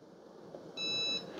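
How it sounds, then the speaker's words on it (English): One short, high electronic beep sounds from an Instant Infusion Brew Plus 12-cup drip coffee maker button, close and moderately loud, followed by a faint click. "I don't think the beeps are overly annoying and they're not super loud"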